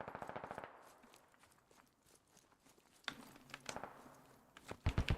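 Rapid bursts of video game gunfire crackle through a team match, a fast rattling volley at the start and scattered sharp shots later, with quieter pauses between.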